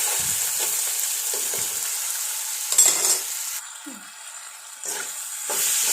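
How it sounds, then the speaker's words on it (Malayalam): Ginger, garlic, green and kanthari chillies and onion sauté in a hot pan, giving a steady, close sizzle and hiss that swells briefly as the ingredients are stirred, with no talking. "ഇഞ്ചി വെളുത്ത് വെളുത്തുള്ളി നല്ല പച്ചമുളക് കാന്താരിമുളക് എൻ്റെ വീട്ടിലുണ്ടായത് അമ്മ കൊണ്ടു തന്നാണേ സവളയും കൂടിയിട്ട് വഴറ്റിയെടുക്കാം ആദ്യം"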